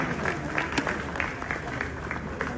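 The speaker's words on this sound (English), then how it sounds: "A round of applause for Wode Maya." An audience gives a round of applause, a continuous moderate wash of clapping with some crowd murmur and faint voices underneath.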